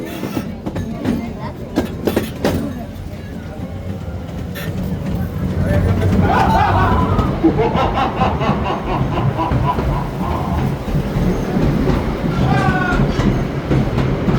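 Loud rumbling of a moving train with rhythmic clattering over the rails, metallic clicks early on, and voices of people talking and laughing over it.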